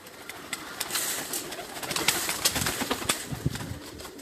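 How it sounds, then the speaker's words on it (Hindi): Flying pigeons kept on a rooftop in Saham, Oman coo softly and repeatedly, with sharp flutters of wings and scattered clicks close by. "ये भी कुछ कबूतर इन्होंने बाहर छोड़े हैं"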